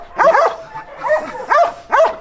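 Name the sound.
village dog barking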